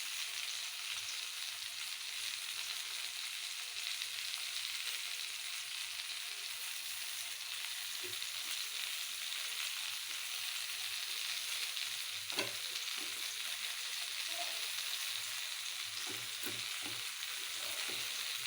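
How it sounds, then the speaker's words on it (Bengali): Neem leaves hit hot oil with eggplant that is already nearly fried, giving a steady dense sizzle for the whole stretch, broken by a few scraping clicks of stirring in the pan. "তো এই সময় আমি নিম পাতাগুলো দিয়ে"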